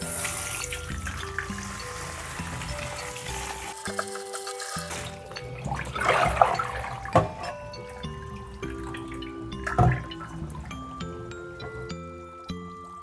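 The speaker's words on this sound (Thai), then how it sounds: "ก่อนอื่นเราต้องล้างทำความสะอาดก่อน" Bananas being washed in a sink of water before boiling, with running tap water, splashing and light clinks of fruit and dishes, near and steady with no talking.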